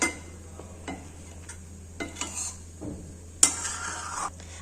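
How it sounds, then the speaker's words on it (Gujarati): A spoon stirs milk being cooked down into basundi in a pot, making soft, scattered scrapes and light clinks over a quiet, low background hum, with one sharper knock near the end. "અને આ રીતે આપણે સતત ચમચો પણ ફેરવતા રહેવાનું, જેથી તળિયે છે તે બેસી ન જાય"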